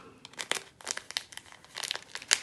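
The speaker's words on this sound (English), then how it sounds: "Carbon paper right side up." Carbon paper handled and crinkled over a half-scale sewing pattern, a run of crisp rustles and crackles in irregular bursts, close and fairly soft, with a sharper crinkle near the end.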